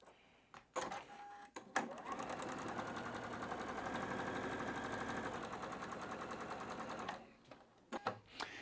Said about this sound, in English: I'm sewing the correct seams together for the center